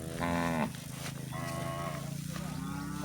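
A buffalo moos loudly and close by, one long low call followed by a second fainter lowing, with a steady engine hum underneath.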